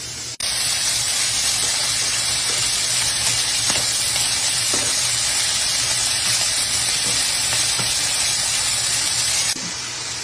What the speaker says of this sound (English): I added the scallops, and I added a little bit of salt and pepper, and I'm going to brown on each side for about 3 minutes